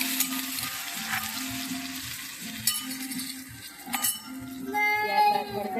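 Ginger-chili paste frying in hot oil in a pan, giving a close, lively sizzle with scattered clinks of a spoon and utensils, and a brief higher crackle near the end.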